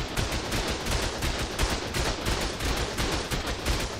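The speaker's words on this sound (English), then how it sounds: "I'm going to get the shotgun and just shotgun his flyers" Rapid, dense shotgun fire in the ARK survival game aimed at flying creatures, a steady run of sharp blasts filling the whole clip with no voices over it.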